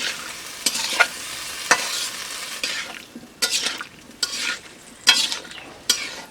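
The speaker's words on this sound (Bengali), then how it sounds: "এখন আমি খুব সুন্দরভাবে নেড়ে করে মশলা কষার সঙ্গে কচুর বই মিক্সড করে নিচ্ছি" A spoon stirs boiled taro stems into fried spice paste in a pan, giving a gentle sizzle. Sharp scraping strokes against the pan come roughly once a second, close by, with no voices.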